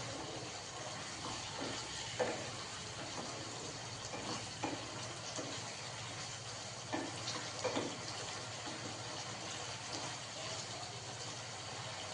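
Ridge gourd and potato cook with poppy seed paste in a pan, giving a steady, even sizzling hiss throughout with occasional faint stirring scrapes, moderately quiet.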